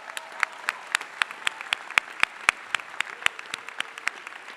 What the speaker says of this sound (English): Can we get another round of applause for our amazing president?